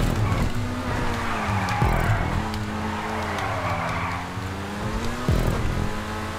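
Race cars in a GTA game wreck each other and one spins off into the bushes, with tires skidding and squealing over steady engine drone and sharp impacts near 2 and 5 seconds.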